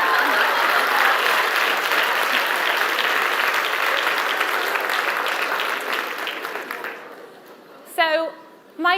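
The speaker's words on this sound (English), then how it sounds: "Big round of applause." Audience at a TEDx talk applauding loudly and steadily for about seven seconds before the clapping fades out, followed by a short burst of a voice.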